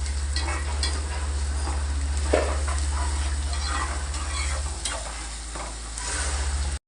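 Fish and raw mango curry cooking in a pan gives a steady, close sizzle with light stirring scrapes throughout, a low constant hum beneath, and no talking.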